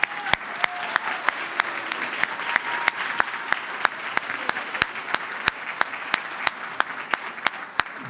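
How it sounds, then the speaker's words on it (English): A crowd applauds for the host at a North San Diego congressional candidate forum, a steady, moderately loud wash of clapping with sharp individual claps standing out throughout. "So let's have a big round of applause for our host."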